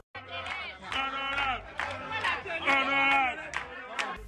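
Crowd pressing around a newly elected deputy in Benin, with several voices shouting and calling out together in overlapping bursts close by.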